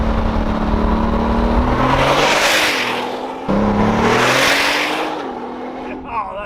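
A loud Nissan GTR roars past at speed twice in a row, each pass a rising, sweeping engine howl with a pitch drop as it goes by, close and dominant, fading at the end as voices react.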